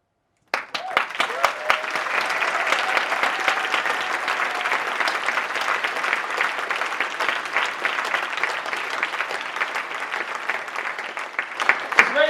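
An audience at a National Poetry Day poetry reading bursts into sustained applause, dense even clapping that starts abruptly and continues loud for over ten seconds before tapering, with a voice entering at the very end.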